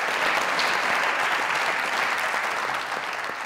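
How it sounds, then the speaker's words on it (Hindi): Steady studio audience applause at a celebrity music event, dense continuous clapping filling the room at even strength for a few seconds, with no voices over it. "एक दफा फिर सोनिया जी के लिए तालियां"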